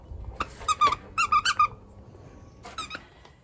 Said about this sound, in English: This is the guy responsible for the squeaking in the background.